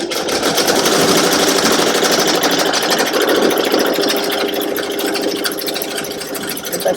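A Ricoma EM1010 embroidery machine runs a tack-down stitch on an appliqué held in a hoop, giving a loud, steady, fast mechanical stitching drone that continues throughout with no voices.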